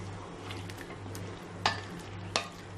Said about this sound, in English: Now gently mix it.